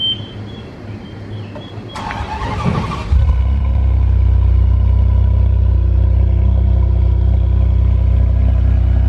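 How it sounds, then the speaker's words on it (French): A Ferrari Super America's engine fires up in an open setting in Monaco: a short burst of cranking, then the engine catches into a loud, steady, deep idle that holds close and alone. "On a une Super America là qui va bouger. On va voir le start-up ce que ça va donner."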